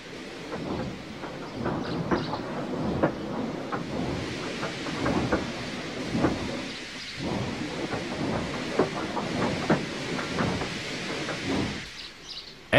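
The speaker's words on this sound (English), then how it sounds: "they uncoupled Gordon, who had enough puff to slink onto the siding out of the way." A steam locomotive rumbles along the rails with a steady, rhythmic chuffing, heavy and continuous throughout, ending in a brief quieter stretch.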